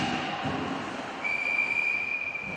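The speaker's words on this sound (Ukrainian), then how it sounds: "свисток від арбітра" A referee's whistle sounds during an ice hockey match between Kremenchuk and Sokil, a sustained shrill tone rising over the noisy, echoing arena crowd and rink clatter.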